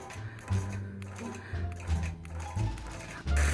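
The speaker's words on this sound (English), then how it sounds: "And so what I'm going to do is I'm going to baste this down." A sewing machine basting down the layers of a scrappy quilt, its motor humming low with soft, uneven mechanical ticking and a few louder bursts of stitching, close up.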